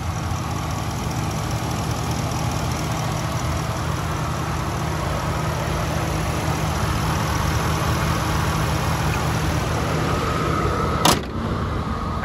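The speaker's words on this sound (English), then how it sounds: "Engine sounds great." A factory-stock 2012 Ford F-150 Harley-Davidson SuperCrew 4WD with a 6.2 liter V8 idles steadily up close, a constant low engine rumble with a brief click near the end.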